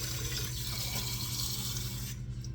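Cold water runs steadily into a measuring cup from a tap, making a close, continuous gurgling flow that softens at the very end.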